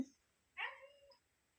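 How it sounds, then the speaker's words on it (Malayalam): A single cat meow, rising and then falling, is heard fairly close in an otherwise quiet space. A short, soft sound comes just before it. "പൂച്ചമ്മയാണോ പൂച്ചച്ചനാണോ?"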